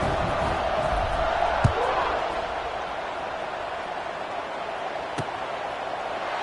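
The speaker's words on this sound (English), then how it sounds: "this crowd is buzzing after that last score" A stadium crowd at a football game, late in the fourth quarter with one team up two touchdowns, keeps up a broad continuous roar, with a couple of brief sharp thumps rising out of the steady din.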